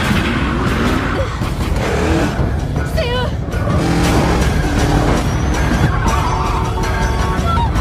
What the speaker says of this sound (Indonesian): Gak nunggu lampu hijau, langsung digas mobil itu sama Elias.